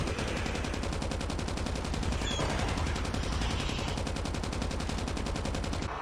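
Rapid sustained automatic fire from an RPD machine gun in the mobile shooter Call of Duty Mobile zombies mode, a dense steady rattle of shots running loud and continuous throughout.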